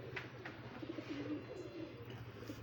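Pigeons coo softly in the background, low murmuring calls that are faint and partly buried in room noise.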